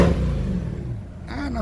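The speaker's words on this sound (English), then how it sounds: "Now, this is how the car sounds when it's in touring." A 2023 Chevrolet Corvette Stingray convertible with the Z51 package idles in touring mode, its low engine rumble steady and fairly quiet, with a brief slight rise in pitch near the end.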